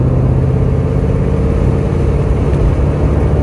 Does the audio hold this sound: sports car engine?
yes